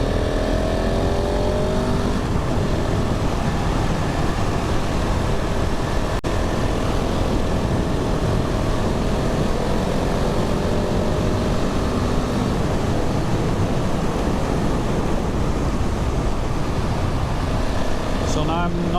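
A 2022 KTM 690 SMC R motorcycle at riding speed, its single-cylinder engine droning steadily with heavy wind rush throughout, loud and continuous from the rider's position.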